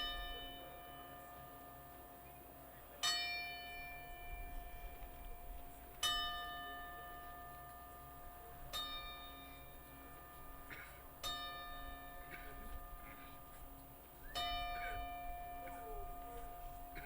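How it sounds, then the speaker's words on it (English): A single bell tolls during a moment of silence at a boxing state finals event, five slow, evenly spaced strikes, each ringing out and decaying over a hushed hall. "Please observe a moment of silence as we toll the bell 10 times"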